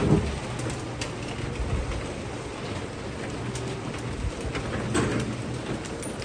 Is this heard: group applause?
no